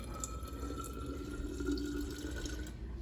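Juice pours in a steady trickling stream into a container, close by and fairly quiet, with light splashing throughout.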